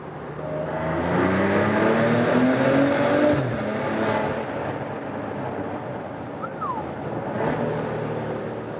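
A Maserati Ghibli SQ4 with its V6 petrol engine accelerates hard in second gear through a tunnel, the rising revs booming and echoing off the walls before easing into a steady, reverberant drone, with no talk.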